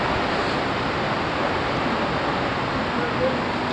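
Water rushes steadily downhill at Kiwai waterfall near Shogran along the Karakoram Highway in Pakistan, a dense, continuous broadband roar heard close and loud without pause.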